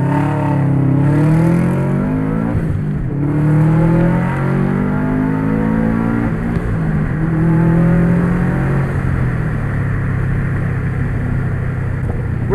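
A turbocharged Subaru on a Cobb Stage 2 dyno tune revs hard several times, each rev climbing sharply in pitch before falling back, loud and close.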